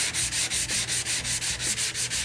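Steady rhythmic sanding strokes on a car body panel, a hissing scrape repeating about twice a second, close and even with no voices.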